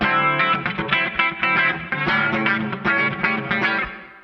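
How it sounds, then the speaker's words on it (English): Electric guitar through a Line 6 Helix chorus effect, playing rhythmic chords with a shimmering, slightly wavering sound, loud and close, strummed in quick repeated bursts. "I got a chorus"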